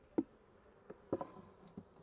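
Honeybee foragers around a beehive, giving faint, quiet buzzing with a few soft, brief knocks and passes close by.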